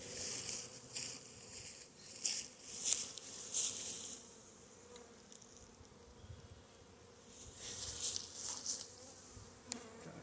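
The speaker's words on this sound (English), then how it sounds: "Got a few guard bees off of one of these hives up here bothering me." Guard bees from nearby beehives buzz close to the microphone, their drone swelling and fading in bursts as they fly near, with quieter stretches between passes.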